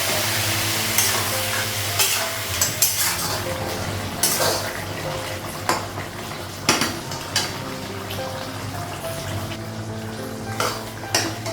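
Ridge gourd sizzles and steams in a pan after a splash of water, a steady frying hiss with repeated scrapes and clinks of a spatula against the pot throughout.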